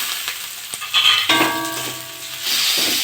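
Spices, salt and chopped tomato frying in oil in a pan while being stirred for a fish and potato curry, a steady close sizzle with scraping stir strokes and a brief clink.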